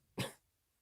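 A person gives a single short, sharp cough close to the microphone while recording a podcast. It is a quick burst in an otherwise quiet moment.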